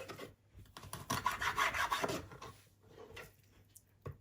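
Pieces of pomfret fish are cut with a knife, giving close, rasping scrapes and crunchy cuts in irregular strokes, with a sharp knock near the end.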